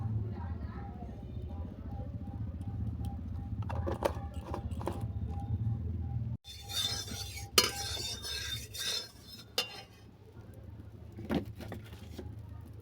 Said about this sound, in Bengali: এরপর কড়াতে দিলাম ঘি।